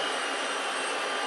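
A Rolls-Royce RB211 jet engine runs on a Boeing 747-200 during an engine run-up, giving a loud, steady broadband roar and hiss that stays constant throughout with no voices heard.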